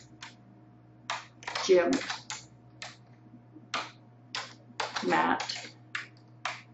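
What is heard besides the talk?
typing names on a computer keyboard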